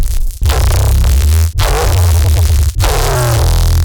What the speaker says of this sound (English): And now you can also hear this really cool dinosaur sound profile.